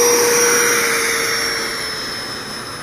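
A RebelV2 electric RC plane on a 4s battery flies past with a steady high whine that slowly fades as it pulls away, loud at first and growing fainter.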